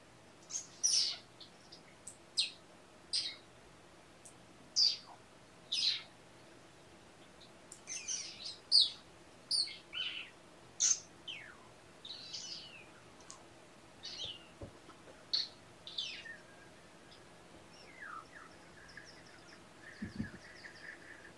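A person imitates bird noises with a long series of high, whistled chirps and tweets, spaced irregularly and mostly fairly faint, over a steady low indoor hum.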